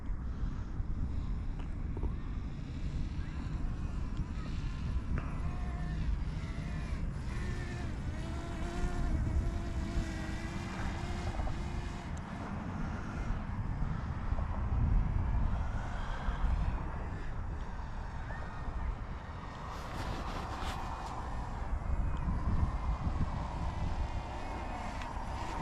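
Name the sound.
Tizzy toy drone flying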